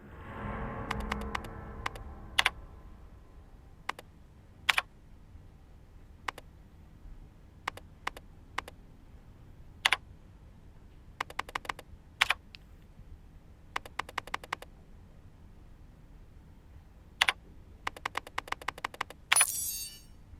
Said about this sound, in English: So this keyboard, should I just look at my actual keyboard when I type this down?